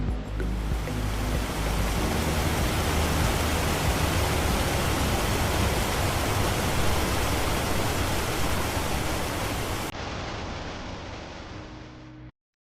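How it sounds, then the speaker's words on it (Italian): A waterfall on a Veneto trail near Lamon, swollen by a river in flood, sends up a loud, steady, close roar of rushing water that holds unbroken for about ten seconds, then softens briefly before cutting off. "Qui solitamente si vede solo la piccola cascata di destra, ma quando il fiume è in piena, tutto magicamente raddoppia."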